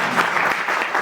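An audience at a literature festival applauds, with steady clapping from many hands filling the room for about a second.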